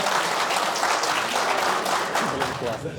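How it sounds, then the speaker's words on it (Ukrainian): Dense, loud audience applause at a stand-up comedy show in Nikopol, a continuous wash of many hands clapping throughout. "і вам оплески обов'язково"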